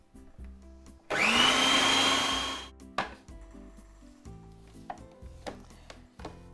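An electric blender whizzes ground almonds and fig jam in a loud, steady roar lasting about a second and a half before winding down, followed by quiet kitchen clatter.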